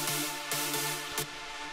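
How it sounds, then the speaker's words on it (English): Big saw chords from a Nexus EDM synth preset ring out bright and dense, with four rhythmic stabs and a sustained wash, loud and alone with no voices. "Big Saw Chords from EDM 9."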